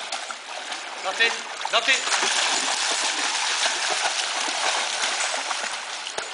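Two young dogos play in a river, sending up continuous splashing and rushing water close by, while a man calls out to them over it.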